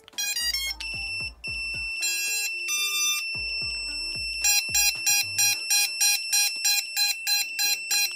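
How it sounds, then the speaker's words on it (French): A drone flight controller's standalone beeper chirps in rapid bursts and tones on a Chimera 7 Pro, then settles into a steady, evenly spaced series of loud high-pitched beeps, with soft clicks beneath. "le beeper autonome, il fonctionne en tout cas"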